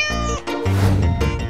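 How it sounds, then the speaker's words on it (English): A cat gives a few loud, close, drawn-out meows in quick succession, heard alone without any talking. "cat"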